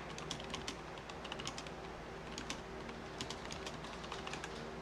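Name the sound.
typing a password on a computer keyboard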